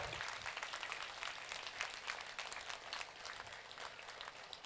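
A gathering at a religious discourse breaks into a sustained, dense round of applause honouring mothers, heard fairly faint and even throughout with no talking over it.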